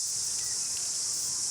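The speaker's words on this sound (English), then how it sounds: "there's a cicada right here." A cicada chirps close by on a New Zealand summer day, producing a loud, steady, unbroken high buzzing drone that fills the whole moment alone, with no talk.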